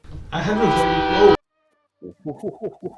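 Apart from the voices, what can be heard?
train passing by, heard through microphone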